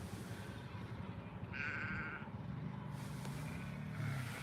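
Sheep bleat faintly in a field, a few distant calls spaced apart over quiet outdoor ambience, with a low vehicle-like rumble underneath.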